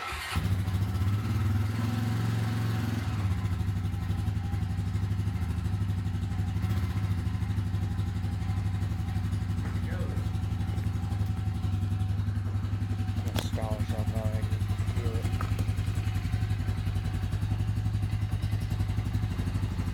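A Honda motorcycle engine runs steadily with a low, continuous idling rumble up close. Faint clatter and a few clicks sit over it.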